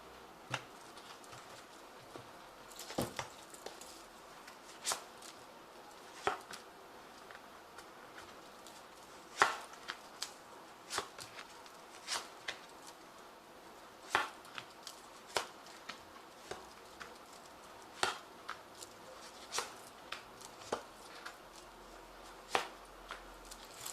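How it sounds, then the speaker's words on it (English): A Zombie Tarot card deck being shuffled, giving a steady run of soft, crisp card flicks and riffling taps spread across the whole stretch, fairly quiet and close, with no voices over it. "I have shuffled this deck."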